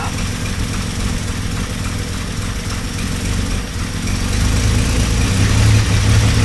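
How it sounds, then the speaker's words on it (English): Car engine running close by at a steady idle, then revving up in the last couple of seconds into a louder, deeper rumble; no talking. "If I start to rev it up,"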